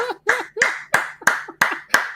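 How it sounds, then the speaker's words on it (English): Hand clapping by one person, seven sharp claps in a steady rhythm, close and loud with no other sound around them. "Let me clap for Embiid too."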